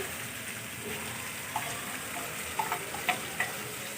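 Bottle gourd peel fries in a pan with a steady, fairly loud sizzle and a few small pops and stirring clicks scattered through it.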